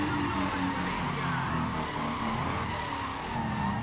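A Toyota Supra with a 2JZ engine roars continuously in Need for Speed ProStreet during a race-day event, with a loud sustained engine drone and some tire noise, no pauses.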